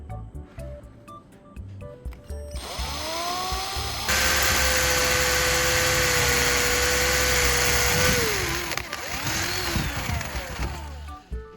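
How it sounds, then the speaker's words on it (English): A power drill whines steadily, rising in pitch as it bites into copper tubing, then winds down with a few clattering handling noises. "let's drill a hole in the copper tube, right where the tire valve is"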